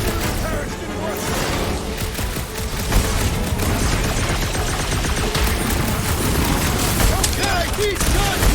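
Rapid, kicking gunfire from weapons in Marvel's Guardians of the Galaxy on PS5, a dense, continuous barrage of shots and booms running the whole stretch under game action and voices.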